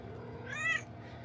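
A pet cat that likes being wrapped in a wet towel after a morning shower gives a single short, soft meow, close by in a quiet room.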